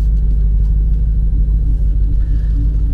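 A Lamborghini Urus with a full Milltek exhaust runs nearby in a deep, loud, steady engine rumble with a heavy low burble and no clear revving.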